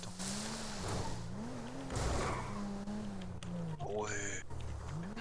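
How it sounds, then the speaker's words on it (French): Engines whine and shift pitch during a car race in the video game GTA RP, with screeching skidding tires near the end, moderately loud, mixed with talk. "Non, il y a une course de voiture"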